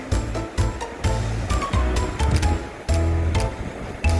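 Ocean waves crash and wash onto a beach on Jeju Island in repeated surges, a loud broadband rush with gusty, uneven rhythm close by.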